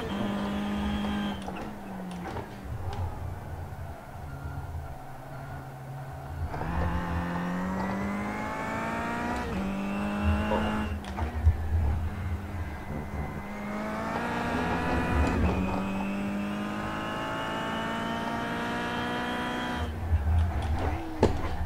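Kia Optima race car at Brands Hatch GP in iRacing, its engine repeatedly revving high and climbing through the gears, with audible downshifts dropping the pitch between pulls and brief lifts in between, steady and close for a long stretch.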